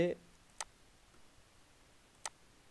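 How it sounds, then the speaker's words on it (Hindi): A computer mouse clicks twice while changing desktop settings, with each crisp, close click separated by a pause of over a second. "मैंने इस पर सेटिंग पे क्लिक किया"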